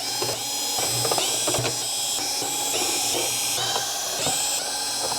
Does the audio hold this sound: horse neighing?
no